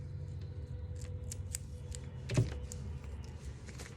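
Scissors snip through craft pieces to separate them, giving one brief, close cut over a quiet room hum.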